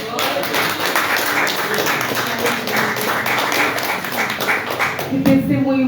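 Church congregation applauding during an evangelical communion service, dense, steady clapping filling the room close by, with a brief murmur of voices near the end.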